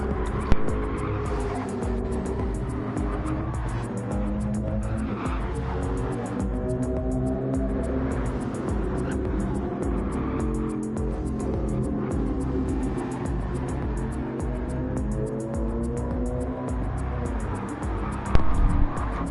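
McLaren and Mercedes race cars in a racing video game, with a continuous loud, high-revving engine roar that rises and falls through gear changes, and tyre squeal mixed in.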